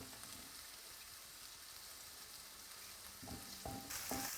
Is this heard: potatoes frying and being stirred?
yes